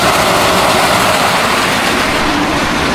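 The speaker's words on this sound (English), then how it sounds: "Turn on our number 2 jump auger, our number 3 jump auger," Grain jump augers and an unload auger running together on a farm, handling corn: a steady, loud mechanical drone with broad rumble and hiss, continuous and unbroken throughout, no voices.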